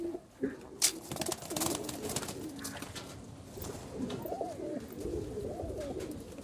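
Madrasi pigeons coo in a loft, with soft low repeated coos, a few wing flutters and light clatter close by, and faint background activity.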